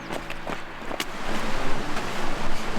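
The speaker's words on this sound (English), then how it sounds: "That is the sound of water" Rushing water in a desert canyon gives a steady, broad roar with wind-like hiss and a few faint clicks, growing slightly louder toward the end.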